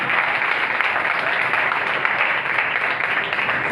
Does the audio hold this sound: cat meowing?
no